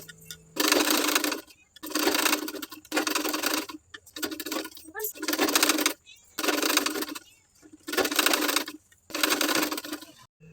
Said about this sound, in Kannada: ಈಗ ಇದ್ರ ಮೇಲೆ ಒಂದು ಸ್ಟಿಚ್ ಮಾಡ್ಕೊಳ್ಳೋಣ